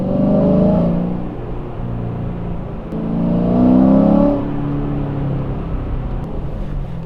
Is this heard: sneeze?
no